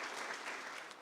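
Quick burst of audience applause at an agricultural finance learning event, dense even clapping throughout, fairly faint and heard without voices.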